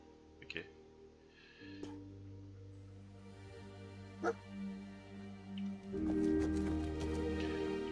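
Dogmeat, the dog companion in Fallout 4, gives a few short barks and whimpers over a low hum of game music and ambience, with scattered thumps and a louder burst near the end.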